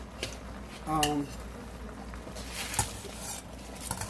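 Handfuls of collard greens drop into a cooking pot with soft rustling thumps and a light clatter of cookware, while a voice talks over part of the sound.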